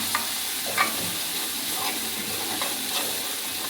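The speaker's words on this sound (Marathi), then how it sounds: "व्यवस्थित परतून घ्यायचं." Eggplant sabji sautéing in a pan makes a continuous close-up sizzle broken by a few quick stirring scrapes and soft knocks, with no speech.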